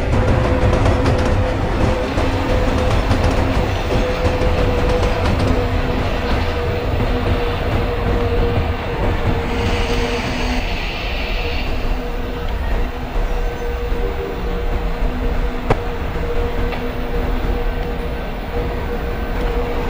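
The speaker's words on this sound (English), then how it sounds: "Another one train going on the opposite line is the train number 12506 Northeast Express." Train 12506 Northeast Express passing on the opposite line, simulated in MSTS, with a steady continuous rumble of rolling stock and a brief brighter hiss midway, no talking.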